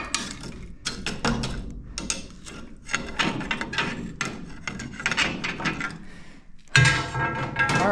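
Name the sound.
working rusty fertilizer spreader gearbox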